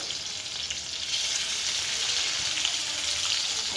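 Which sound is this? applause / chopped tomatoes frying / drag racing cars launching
chopped tomatoes frying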